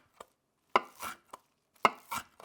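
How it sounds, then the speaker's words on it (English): Parsley is chopped with an ordinary kitchen knife on a board, giving two quick bursts of close, crisp blade strikes and thuds separated by short pauses. "Here's what it sounds like to cut parsley with a regular knife."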